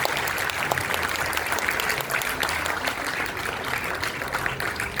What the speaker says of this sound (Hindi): भाई तालियां थोड़ी कम है